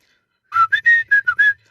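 A person whistles a short tune, imitating a grandfather who whistled while working: six clear, close, pitched notes in quick succession over about a second, alone against silence.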